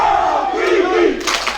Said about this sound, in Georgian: ახლა უკვე ჯეოკვლინის გულშემატკივრები გააქტიურდნენ